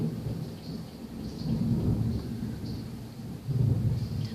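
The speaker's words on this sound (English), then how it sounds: "We have a thunderstorm going on outside." An outdoor thunderstorm with steady rain, heard from indoors: a continuous wash of rainfall with low, rolling rumbles of thunder swelling twice, without any speech.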